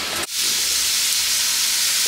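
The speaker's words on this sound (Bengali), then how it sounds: "দেখুন বরবটি ভাজি হচ্ছে" Yardlong beans frying in a pan: a loud, steady hissing sizzle that swells abruptly after a brief dip and then holds, close and dense, with no talking.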